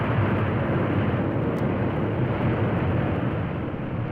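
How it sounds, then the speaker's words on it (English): An airliner's engines roar steadily with the propellers reversed to brake after landing, a loud dense broadband rush heard from inside that holds for several seconds and eases slightly at the end. "you hear the engines roar soon after you're on the ground, remember that's what he's doing, reversing the props to stop the airplane"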